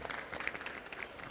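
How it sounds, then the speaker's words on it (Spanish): Brief burst of audience applause at a climate conference panel, steady clapping from a modest crowd with a few sharper individual claps standing out. "un fuerte aplauso, ¿no?, para María José"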